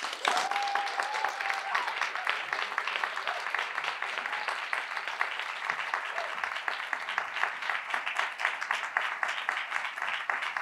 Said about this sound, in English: Extended clapping for Sister Joy